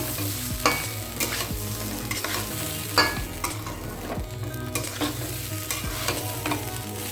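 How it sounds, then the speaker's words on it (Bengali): Food frying in a pan for a festival offering meal, a steady close sizzle with repeated scraping stirs and utensil knocks, no talk. "এটা দিয়ে ফ্রাই করবো দশ মিনিট ফ্রাই করার পরে জল ঢেলে দেব"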